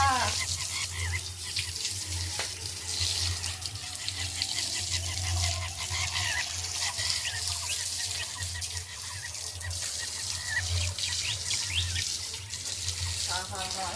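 Tap water running steadily while something is rinsed and washed at a rural village home in Bengal, a continuous splashing rush with a low hum underneath and faint background sounds.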